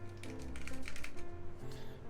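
A mechanical keyboard with Alps switches and a slightly rattly spacebar is typed on in a quick burst of clacky, close keystrokes. The clicks come in an uneven rhythm, with a brief pause partway through.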